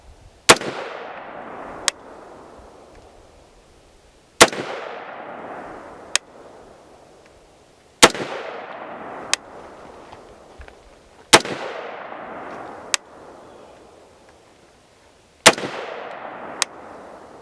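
IWI Carmel rifle in 5.56 fired outdoors, sharp loud cracks in pairs with a few seconds between each pair, every shot trailing off in a short echo.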